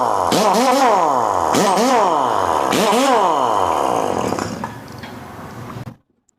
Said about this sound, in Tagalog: pneumatic impact wrench.